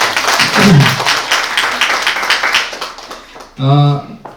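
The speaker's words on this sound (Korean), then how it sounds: "박수 한번 쳐주세요" An audience at a pet herb aromatherapy book concert applauds for several seconds, a steady patter of many hands that thins out before a voice starts speaking near the end.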